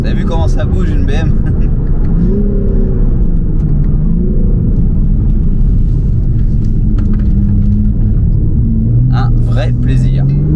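BMW M4 Competition G82 with a stage 2 tune, its engine rumbling low and steady up close, with rising revs here and there while people talk over it throughout.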